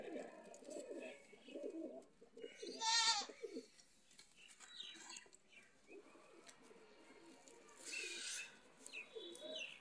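Madrasi pigeons coo softly in a few low, throaty phrases, close and faint, with a couple of brief sharp flutters or scrapes breaking in between.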